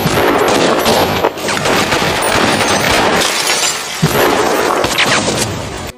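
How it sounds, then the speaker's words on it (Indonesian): Snipers fire rapid successive shots in a film, a dense, loud barrage of gunfire with cracking, shattering bursts that continue almost without pause. "Mereka pun melepaskan tembakan secara beruntun."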